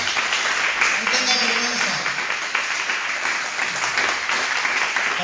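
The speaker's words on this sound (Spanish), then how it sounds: "Un aplauso para Jesucristo, hermano." Congregation applauding during a church service, a broad sustained wash of clapping heard under a voice speaking over it.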